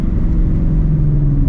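A straight-piped Shelby GT350 with long-tube headers, exhaust valves in quiet mode, gives off a loud, deep, steady rumble close by for a brief moment, echoing between buildings.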